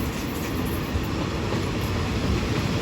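An oil tanker express train running past special express 38 at Bang Sue junction station in Thailand, a loud, continuous rumble and roar of rolling railcars close by, with steady wheel noise throughout.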